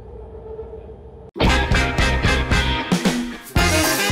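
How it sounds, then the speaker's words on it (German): A BART rapid transit train bound for San Francisco sets off abruptly with a loud rush, then a rapid rhythmic clatter of wheels over rail joints sounds close and steady to the end. "Dort fährt nämlich die Schnellbahn, auch BART genannt, direkt nach San Francisco rein."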